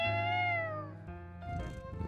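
A cartoonish cat meows in a video game, one long drawn-out mew that falls in pitch, then a shorter, rougher cry. Both are close and clear, with no talking.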